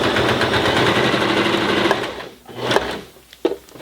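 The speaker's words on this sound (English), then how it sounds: "We're just going to take it nice and basic with the standard presser foot on the machine and stitch right through it" A beginner's sewing machine with a standard presser foot stitches through folded leather, a loud rapid needle chatter that runs steadily and then slows into a few separate clicks as it stops.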